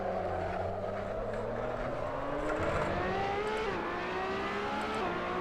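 Ferrari LaFerrari engine in Assetto Corsa at Spa-Francorchamps, a steady loud howl rising in pitch as the car accelerates hard, with one brief dip at a gear change before climbing again.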